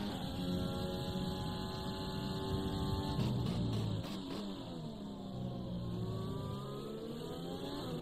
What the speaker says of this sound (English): Smeg not mucking around here, gets past Lajano.